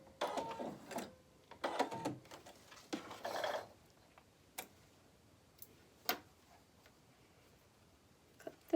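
Newer sewing machine stitching a monogrammed face mask in short bursts of rapid ticking, separated by quiet pauses and a few isolated clicks, close and moderately soft.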